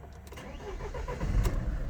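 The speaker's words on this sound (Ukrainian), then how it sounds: "Заводиться з півоборота, працює рівно, стабільно, справно" A Mercedes-Benz Sprinter 313 van with 418 thousand km and a rebuilt engine starts up nearby, a brief crank followed by the diesel catching and settling into a steady, growing rumble.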